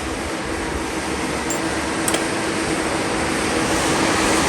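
Chevy small block 406 V8 running on first fire-up and struggling to idle, a loud, steady, dense mechanical roar heard close with no speech.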